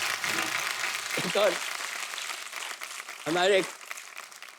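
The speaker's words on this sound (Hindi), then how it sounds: "एक बार जोरदार ताली हो जाए जरा।" Studio audience applause at a Hindi comedy talk show, a dense, steady wash of clapping that fills the whole stretch at a fairly loud level, with a voice cutting in briefly twice over it.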